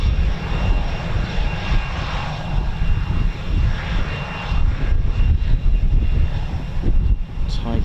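A Eurofighter Typhoon FGR4 fighter jet flies near RAF Coningsby, its loud, continuous engine roar filling the air steadily throughout with no letup.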